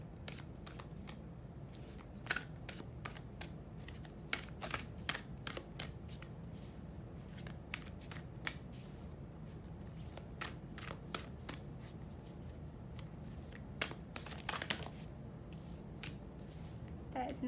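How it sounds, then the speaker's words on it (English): Tarot cards are shuffled in quick, soft riffling bursts and taps, faint and close, repeating irregularly with brief pauses between. "I'm just going to quickly shuffle and get into reading."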